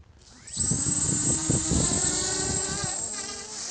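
Homemade quadcopter motors whining up from rest as the throttle is opened, a rising high-pitched buzz that settles into a loud, steady multi-rotor drone with wavering pitch, close to the microphone.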